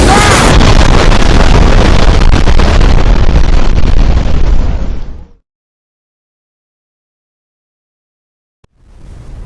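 A huge explosion in the Skyrim video game roars loud and broadband for about five seconds, then cuts to silence before faint noise returns.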